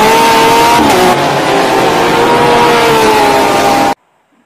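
A green toy race car gives a loud, steady high-pitched engine whine that holds for about four seconds and then cuts off abruptly into silence.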